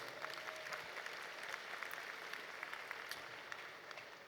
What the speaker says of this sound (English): If you could please give them a big round of applause.